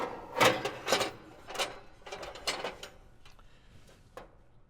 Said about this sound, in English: So we'll just reassemble the mixer portion at this time.